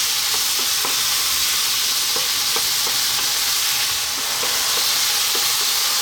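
Tomatoes with oregano cooking down over high heat in a pan, a continuous close sizzle and hiss dotted with small popping crackles throughout, no voices.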